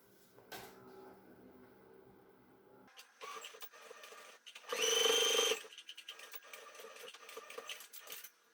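A sewing machine stitching shut the open gap in a fabric glasses case: a short, steady motor whir of about a second, surrounded by quieter handling clicks and rustles.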